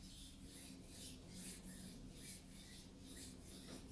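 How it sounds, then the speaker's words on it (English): Hands gently rubbing together in a quiet meditation setting, a soft continuous brushing rasp with slow rhythmic swells, close and faint, with no voice over it. "gently rub your hands together if you're able to. Make this gentle sound."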